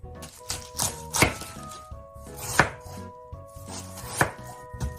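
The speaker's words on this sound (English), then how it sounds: "For the cabbage, cut it into thin strips that are easy to eat" A knife slicing cabbage into thin shreds on a cutting board, sharp rhythmic chops in groups with short pauses, close and clear with no voices.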